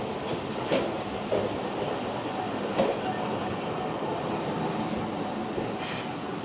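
A tram in Toyohashi, Japan rumbling and clattering as it rolls into a stop, with a few sharp wheel squeals and steady track noise, no talking.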